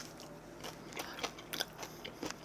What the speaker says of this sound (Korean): 숙주의 아삭거림